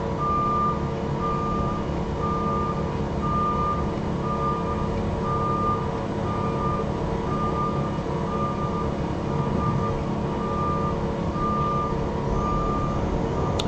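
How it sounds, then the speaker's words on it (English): Construction trucks in a neighborhood street outside a home studio emit a regular, evenly spaced series of reversing beeps over a constant loud engine rumble, with no voices. "if you guys hear lots of beeping and noises and stuff like that over top of me, it's because I have construction going on in my neighborhood right outside the studio"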